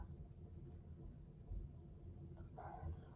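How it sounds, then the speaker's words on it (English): Distant thunder from storms rolling in, a low, faint rumble that swells and fades in the background, with a brief higher rustle near the end. "More big thunder."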